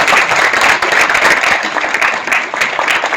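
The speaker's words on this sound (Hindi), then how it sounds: "ईश्वर अंकल के लिए जोरदार ताली बजाइए" Loud, dense applause from an audience at a book launch event, continuous clapping filling the room for the whole stretch, with a few voices mixed in.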